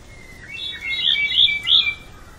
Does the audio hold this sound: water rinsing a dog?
no